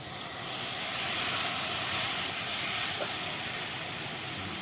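Buttermilk poured into a hot pan for a Gujarati peanut curry gives off a steady, loud hiss of steam and sizzle that swells briefly and then holds, with no talking.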